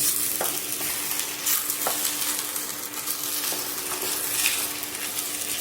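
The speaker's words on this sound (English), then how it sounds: "So we're gonna stir again." Jollof rice with vegetables, green peas and cabbage, stirred in a frying pot, giving a steady sizzle with a few sharp scrapes of the spoon against the pot, close up and with no voices.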